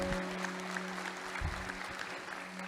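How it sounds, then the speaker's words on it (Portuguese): A church congregation applauding during a sermon, heard as steady, moderately loud clapping with a sustained organ-like tone beneath it and no clear talk. "Aplaude o teu Deus, aplaude."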